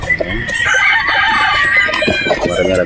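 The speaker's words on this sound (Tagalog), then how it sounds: "Marami na tayo mga manok dito mga bossing." Gamefowl stags on a Batangas game farm crow loudly and close, with busy clucking and overlapping calls from several birds in a short, dense burst.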